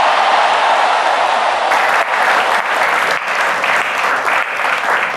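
Sustained, loud applause from an audience at a Golkar party event, filling the whole stretch with dense clapping and some crowd noise, with no clear talk over it.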